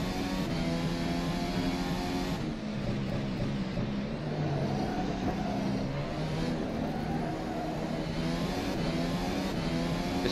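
Formula SimRacing FSR 2018 development car in rFactor 2 lapping Spa, its simulated engine droning loudly and continuously, pitch rising through gears with brief drops at shifts, alone without talk.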